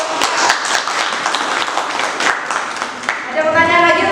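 Classmates clap for a student group after their presentation in a university class, a brief scattered round of applause before a voice begins speaking near the end.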